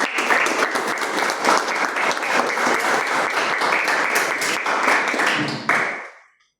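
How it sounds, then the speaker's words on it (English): A Toastmasters meeting audience gives a big round of applause, dense sustained clapping from many people that holds steady for several seconds, then fades away near the end. "Let's give a big round of applause."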